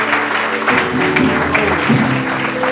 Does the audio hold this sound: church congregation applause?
yes